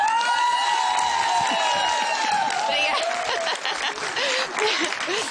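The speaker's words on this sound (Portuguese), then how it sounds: "como é que vão aplaudir a nossa próxima convidada, Ana Mexia" A television studio audience applauds and cheers the arrival of guest Ana Mexia, with loud sustained clapping, whoops and bright tonal studio music running beneath throughout.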